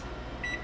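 A kitchen microwave oven gives a short, high electronic beep near the end of a brief stretch of quiet room hum, close and clear with no talking.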